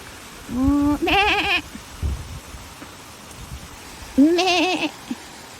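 Wild goats near a small waterfall in south Crete, near Ierapetra, Greece, let out two loud, wavering bleats a few seconds apart over a steady rushing background.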